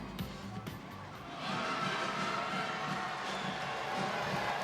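A rowdy crowd fills the NU Coliseum during a Class A state volleyball final, its loud, dense roar surging after a brief sparse stretch and holding steady to the end.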